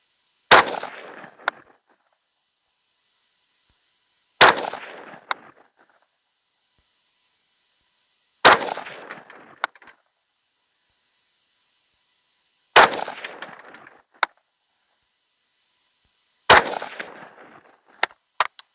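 An MSAR STG 556, a bullpup AUG clone rifle, fired from a standing position: five sharp, loud shots spaced about four seconds apart, each followed by a short ringing decay and a faint brass clink.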